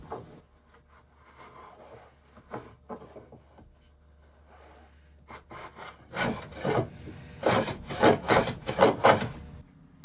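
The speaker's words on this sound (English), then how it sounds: "I can use a sharp block plane and try to flatten this" Rhythmic rasping strokes of a sharp block plane flattening a maple guitar neck scarf joint, quiet at first, then a loud run of quick repeated passes near the microphone.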